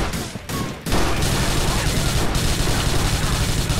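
Submachine gun fire in GTA 4 during a biker gang shootout, a dense, loud stretch of gunfire and crashing that starts after a brief quieter moment and continues without letup.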